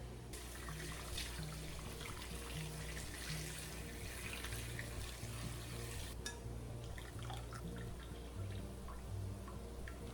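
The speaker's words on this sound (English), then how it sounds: "it is my mission to pour the broth we have in here through the strainer and into the bowl" Homemade broth pours steadily through a strainer into a bowl, a continuous close splashing trickle with no talk over it.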